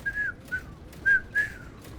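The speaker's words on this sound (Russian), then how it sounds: "кто из вас умеет художественно свистеть?" A person whistles four short, clear, high notes in an uneven rhythm, close and alone against faint background hiss.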